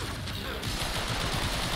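Mesa's Regulators pistols in the game Warframe, firing a dense, continuous stream of rapid shots, loud and close throughout.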